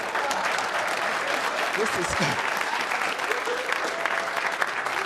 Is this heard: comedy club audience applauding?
yes